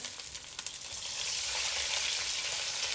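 Garlic and carrot sizzle and hiss steadily in a hot wok as they are stirred during a Chinese egg tofu and shrimp stir-fry, the frying noise loud and continuous and building after water goes in.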